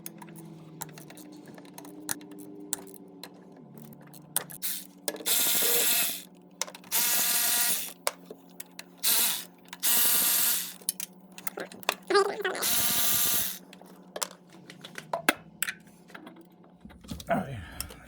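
Hand tools removing a car's throttle body, likely on a Honda Prelude: a series of loud bursts of fast ratcheting separated by quieter clicks, taps and handling noises, with some talk in between.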